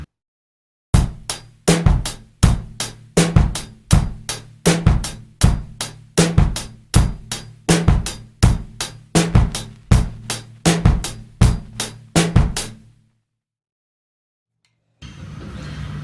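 A drum kit plays a groove with a sixteenth-note bass drum on the e of beat two, the pattern repeating steadily and close up for about twelve seconds before stopping, with a faint noise returning at the end.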